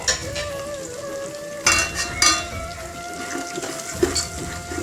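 Puffed rice is stirred in a pan with salt, turmeric and chilli powder, giving a steady frying crackle broken by several loud scraping, rustling bursts of stirring close by.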